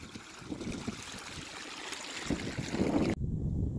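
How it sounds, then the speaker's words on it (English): Water rushes steadily out of a buried field drain tile line outdoors in a muddy field, a continuous broadband gush with some wind noise, close to the microphone, cutting off abruptly near the end. "there ended up being way too much water coming out of the tile line up that way"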